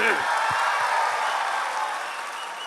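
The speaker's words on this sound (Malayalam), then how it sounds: "ഓക്കെ, മമ്മൂക്ക ഫാൻസ് ഒന്ന് കൈയടിച്ചേ" Live audience at a stage show clapping for Mammootty fans, a sustained wash of applause from a crowd that slowly fades, with a few low thumps at the start.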